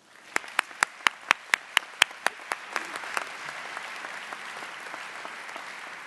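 An audience applauds a convocation speaker at a Boston University College of Engineering ceremony, opening with a string of sharp, evenly spaced close claps that swell into dense, sustained crowd clapping.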